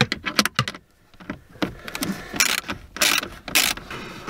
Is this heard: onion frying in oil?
no